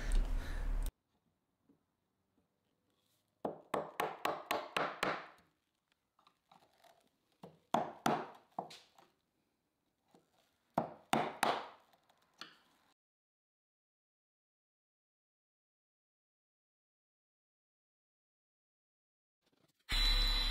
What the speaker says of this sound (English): It's this brown stuff that I'm chopping into with a chisel.